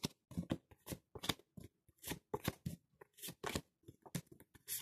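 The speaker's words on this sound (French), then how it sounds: "J'étale les cartes et je vais en positionner 5." Tarot cards slide and slap in short, quick bursts as they are spread across a table, close and quiet, with brief pauses between the swishes.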